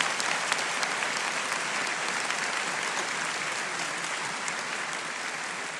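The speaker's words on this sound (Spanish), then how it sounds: "Démosle un aplauso al Señor." Steady, dense applause from a church congregation filling the room at even loudness for several seconds, with no pauses or voices standing out.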